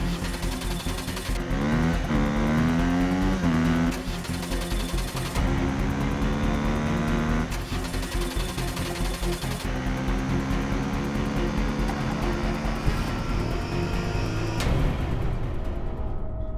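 Car engine running and revving steadily as the vehicle pulls away in pursuit, loud and continuous with gear-change breaks and shifting pitch, under dramatic background music with no talk.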